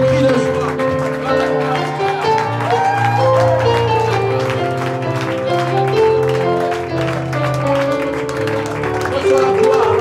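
Church congregation cheering and shouting for joy, a steady loud wash of voices, clapping and crowd noise over sustained music throughout.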